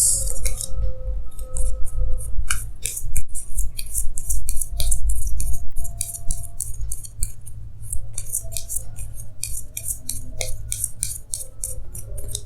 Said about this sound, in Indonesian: saya akan tarik lagi 2 kartu tambahan